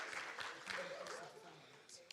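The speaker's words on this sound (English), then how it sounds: "can we give her a round of applause?" An audience at a teaching and learning festival claps in a dense round of applause, fairly loud and close, tapering off toward the end with a few scattered claps.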